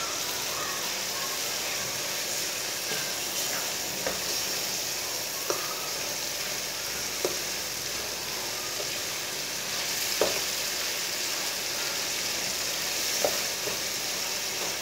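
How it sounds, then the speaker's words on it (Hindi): Boiled lentils sizzle in a pan with whole cumin and spices for salted rice, a steady close frying hiss broken by occasional soft stirring taps, with no talk. "दाल डाल के 2 मिनट तक भून लेंगे।"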